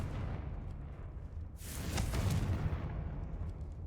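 A Confringo blasting spell explodes in Hogwarts Legacy, a single broad boom that swells and lingers for a couple of seconds over a steady low ambient rumble.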